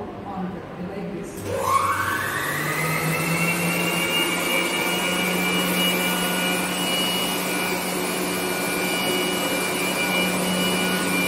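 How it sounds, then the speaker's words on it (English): A blower switched on in a sand fluidization setup spins up with a rising whine in the first two seconds, then holds a steady loud tonal hum and airy rush to the end. "तो हम लोग ब्लोअर को ऑन करते हैं लाइक दिस"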